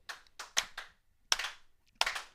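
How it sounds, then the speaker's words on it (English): A slow clap intro in a studio: a handful of distinct hand claps with uneven gaps, close and crisp, and no talk. "We did not appropriately do his slow clap intro"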